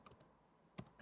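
Quiet keystrokes on a computer keyboard as a web address is typed, a short burst of clicks, a pause, then another quick cluster, heard alone and close by.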